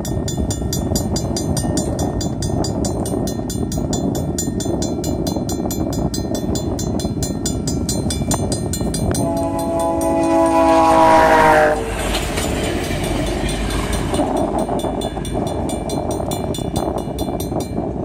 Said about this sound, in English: Via Rail of Canada coming.